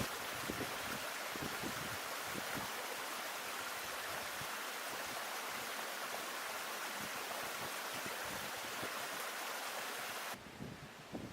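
The River Lathkill in Lathkill Dale rushes steadily in a constant broad hiss, loud and unbroken, cutting off sharply just before the end.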